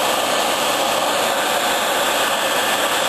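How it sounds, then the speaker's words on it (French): A hot air heat gun dries a crankcase repair, a loud, steady, close blowing roar that holds constant without pause. "voilà pourquoi le décapeur est efficace et très chaud."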